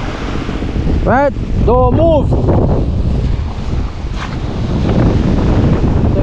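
Strong coastal wind buffets the microphone with a continuous loud, rushing roar, while a person calls out briefly over it.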